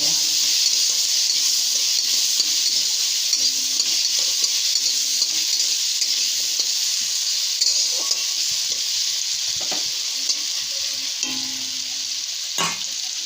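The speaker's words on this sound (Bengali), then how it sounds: "হলুদ লবণ দেওয়া ভালো করে ভেজে নিই" Potatoes with turmeric and salt fry in a pan for a potato and fenugreek-greens dish: a loud, steady sizzle broken by scraping stirs and occasional utensil knocks against the pan.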